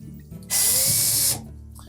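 Power drill with a number 2 Phillips bit backing screws out of a Samsung dryer panel: one loud, close whine of a bit under a second long, with quiet stretches before and after.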